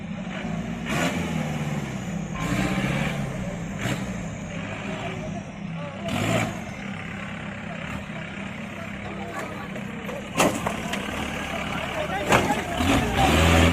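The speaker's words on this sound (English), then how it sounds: "This Tata dumper shows us how it can tackle the tough mud on an off-road path." A Tata dumper truck churns through thick mud on an off-road path, its engine rumbling and revving in bursts under someone speaking over it.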